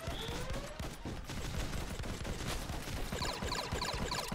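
Dense, continuous volleys of rapid gunfire-like shots from enemies in the bullet-heaven roguelite X Invader, firing steadily at the player for several seconds with bright chirping effects layered over the barrage.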